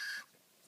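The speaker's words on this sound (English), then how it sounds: "It's a little barn owl, which is one of their native owls, one of the indigenous owls." Small barn owl, a native indigenous species, giving a brief harsh hissing screech up close, cut off quickly into quiet room tone.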